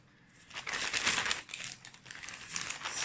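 A mail package from a friend is cut open at the top, giving close, brief bursts of crinkling and rustling packaging.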